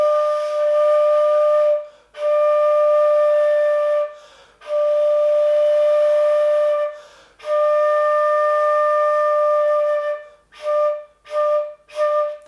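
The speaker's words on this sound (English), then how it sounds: "So flute on your top lip might sound something like this." Flute played with a loose, relaxed embouchure on the top lip: several long, airy sustained notes, then a few short clipped ones, played solo and close.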